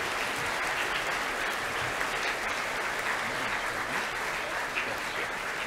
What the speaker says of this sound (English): please give all of our award winners one more round of applause